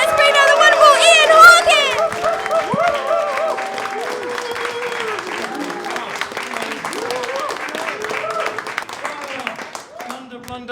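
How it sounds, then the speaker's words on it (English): Comedy club audience cheering and applauding loudly as a comedian comes on stage, with whoops and overlapping voices, the clapping thinning toward the end as the room settles. "let's start that cheer going"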